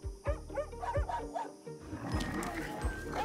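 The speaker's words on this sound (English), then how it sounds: "While the other dogs are unwelcoming off the bat, old Isabel here seems cool." Several dogs bark in a burst of loud, rhythmic woofs, followed by mixed animal noise and commotion.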